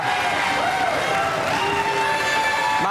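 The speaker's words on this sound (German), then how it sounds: "das war euer Applaus." A TV studio audience on a game show claps loudly and steadily, with a dense wash of applause and some cheering throughout.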